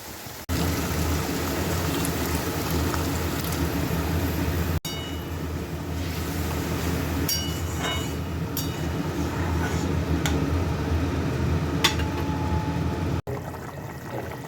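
A little water added to hot oil in a pan of ridge gourd and potato gives a long, steady bubbling hiss with a few clinks, cut by brief breaks, no talk over it.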